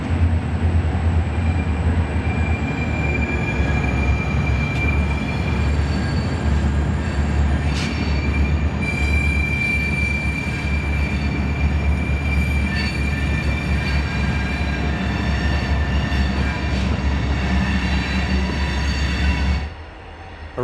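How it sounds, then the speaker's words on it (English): A Portland & Western freight train rolls past behind trees on the Toledo District, with a steady loud rumble of railcars and wheel squeal continuing for about twenty seconds before easing off at the end. "We glimpse the train as it passes through the surrounding trees."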